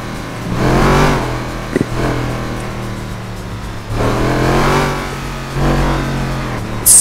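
A video-game car engine revving hard in GTA, rising and falling in two long loud surges with a steady low drone between them, close and with no talk.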